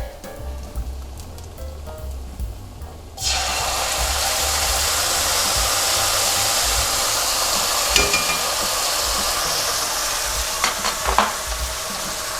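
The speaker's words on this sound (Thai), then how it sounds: "ผัดกระเทียมนะครับให้มีกลิ่นหอมนะครับ นั้นก็ ใส่ เต้าเจี้ยวนะครับลงไป" Chopped garlic and fermented soybean paste stir-fried in a pan: quiet kitchen sounds, then a sudden loud, steady sizzle that continues close-up with occasional clinks of the spatula against the pan.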